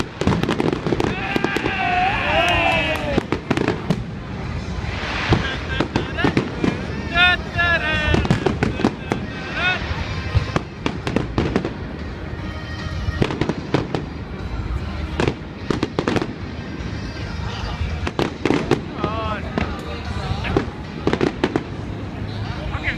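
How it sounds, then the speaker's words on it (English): Hogmanay fireworks exploding over a New Year celebration: a continuous barrage of sharp bangs, crackles and whistling bursts, loud and close, with people's voices and shouts heard between and under the blasts. "I'm getting fed up recording the fireworks."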